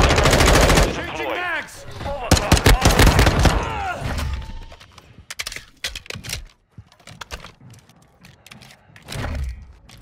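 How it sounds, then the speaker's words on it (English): Gunfire from the Call of Duty Modern Warfare II video game: loud, dense bursts of rapid shots at the start, then scattered single cracks and shorter volleys that thin out and grow fainter toward the end. "Gunshots are impactful, footsteps are easy to hear"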